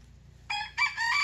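Chickens in a coop freshly bedded with pine litter give a few squawking clucks in quick succession, close and moderately loud over faint low background hum, with no talking.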